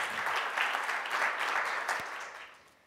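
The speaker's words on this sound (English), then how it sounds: "Give him an applause" Warm applause from a university forum audience welcoming a speaker at UCF: a full, steady patter of many hands that tapers off and fades out near the end, with no voices.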